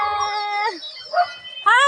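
A dog at a rural farmhouse howling and yelping in short drawn-out cries, close and loud, with a brief whine between the longer howls.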